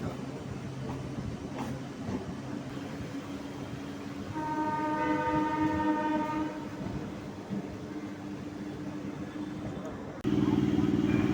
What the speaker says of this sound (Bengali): আমাদের ট্রেন চলে এলো ইডেন গার্ডেন স্টেশনে